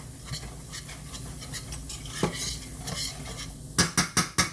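Flour stirred in a pan to brown for smothered liver and onions, a steady scraping and rubbing at moderate loudness, ending with four sharp metallic taps of the utensil on the pan.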